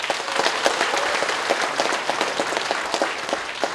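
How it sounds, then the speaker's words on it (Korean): Applause at a Korean political party rally for a Chungbuk leadership candidate's speech, dense steady clapping from a large crowd, loud and continuous throughout with no voices over it. "도의원, 시의원, 군의원 여러분께 커다란 박수 부탁드리겠습니다"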